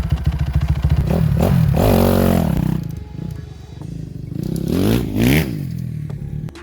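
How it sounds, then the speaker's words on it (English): A Kawasaki KX250F dirt bike engine idles and revs while warming up, loud and close, with blips of throttle rising and falling throughout and no speech. "it's a good idea to warm the bike up"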